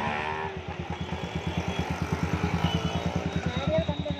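A TVS Apache motorcycle fitted with an SC aftermarket silencer with a built-in catalytic converter, revved in steady rapid pulses, loud and close, with people talking over it.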